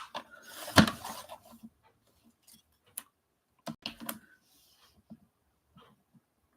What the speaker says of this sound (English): Let's cut from this end.